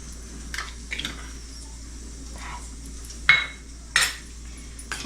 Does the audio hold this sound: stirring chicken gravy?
yes